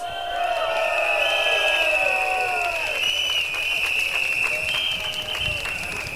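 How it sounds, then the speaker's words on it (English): A large outdoor election rally crowd at Sembawang West on Labor Day applauds and cheers steadily, a dense continuous roar of clapping and voices with a tonal music or whistle line running over it. "give yourselves a round of applause"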